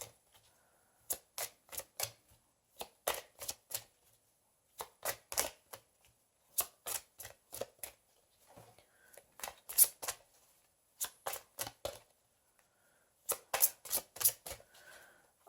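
Tarot cards shuffled by hand in quick bursts of crisp riffling flutters, separated by short pauses, close and fairly quiet with no talking.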